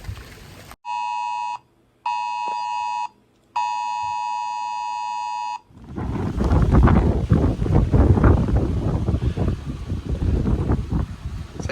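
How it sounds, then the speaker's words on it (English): Hurricane Milton's winds roar against the microphone in steady, heavy gusts. Before that, three loud electronic alert beeps sound in a row, each about a second long with short gaps between them. "It's actually windy, a little windier than you'd expect."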